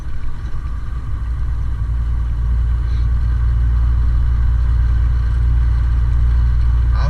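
A truck engine runs steadily while driving, a loud, constant low rumble and drone throughout with no speech.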